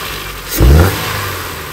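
A MINI R50 engine revs up briefly from a warm idle, a short loud rise and fall of mid-pitched engine roar before settling back to a steady idle.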